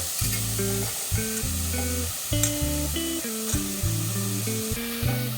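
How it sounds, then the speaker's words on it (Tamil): Soaked rajma beans sizzle steadily as they are sautéed in a pan, a continuous close frying hiss running beneath loud melodic background music throughout. "இப்போ இந்த ராஜ்மா போட்டுட்டு ஒரு ரெண்டு நிமிஷம் நல்லா நம்ம வந்து வதக்கி விட்டுடுவோம்"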